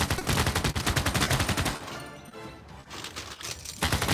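Rapid gunfire from cities firing on units in Civilization VI, a dense volley of cracks for the first second and a half, then quieter scattered shots before another loud burst at the end.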